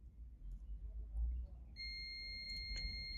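A multimeter in continuity mode beeps while it tests an alternator winding, giving a steady high electronic tone that starts partway through over a low rumbling background, with a faint voice.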